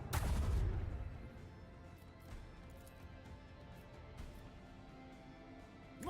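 Lance batteries fire a volley in the Warhammer 40,000: Rogue Trader space game, opening with a heavy booming blast that decays into a low rumble, followed by scattered faint impacts and crackles.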